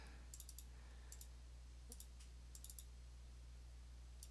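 Faint computer mouse clicks come in short clusters of two or three, spaced across a quiet room with a steady low electrical hum beneath.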